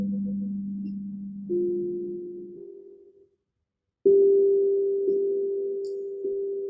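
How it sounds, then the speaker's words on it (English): Soft, sustained tuned steel drum tones ring out one after another during an evening meditation, each fading slowly, with a brief silence before a higher note sounds and lingers. "as we listen to the tones of our steel drum tonight"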